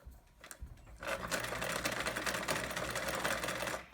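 A sewing machine starts up after a couple of soft clicks and runs a steady fast stitch along quilt binding with a quarter-inch seam, its whirring motor and needle chatter loud and close.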